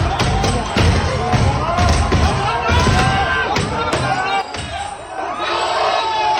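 A man cheers loudly in a played-back recording, his shouts riding over a continuous crowd roar with thumps and bangs, all at a steady high level with a brief dip near the end.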